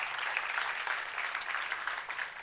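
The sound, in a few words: audience applause for conference speaker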